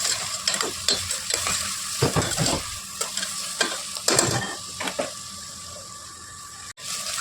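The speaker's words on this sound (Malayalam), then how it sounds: "പാതി കറിവേപ്പില ഇടുന്നുണ്ട്" Curry leaves frying in a pan for beef curry, with a steady sizzle and clattering stirs of a spoon against the pan, close and fairly loud.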